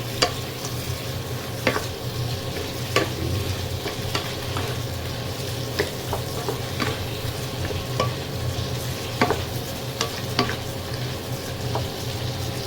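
Pork and vegetables fry in a pan while being stirred, a steady close sizzle broken by irregular scraping clicks of the spatula, with no talking.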